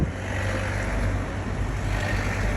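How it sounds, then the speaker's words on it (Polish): The Ganges river flowing down from the mountains in India, a constant loud rushing roar of water close by, with a steady low rumble and no voices. "jak to wygląda rzeka Ganges płynąca z gór"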